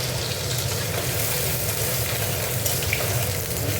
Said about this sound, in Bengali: একটু ভাজা ভাজা হোক।